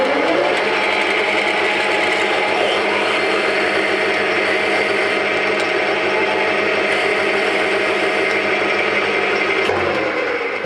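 A drill bit mounted in a lathe tailstock bores into a surface speed wheel, giving a steady loud mechanical whir with a grinding cutting texture that runs continuously throughout.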